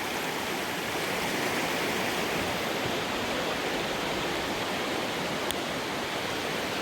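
River rapids rushing steadily below a remote dam-area campsite, a dense continuous roar of flowing water that holds at an even level throughout with no voices.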